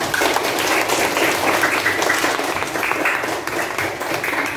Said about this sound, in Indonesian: tepuk tangan yang keras untuk kelas 4 pembelajaran hari ini